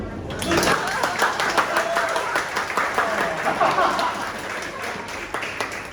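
An audience at a talk on Malaysian jazz breaks into clapping that starts abruptly, swells into dense applause and carries on steadily, with a voice briefly audible over it.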